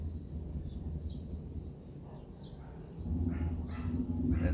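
Faint, scattered bird calls drift in from outdoors, brief chirps spread over a steady, low roar of distant traffic.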